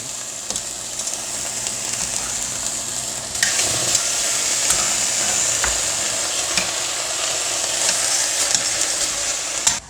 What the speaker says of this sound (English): I'm just going to cook these up in the hot skillet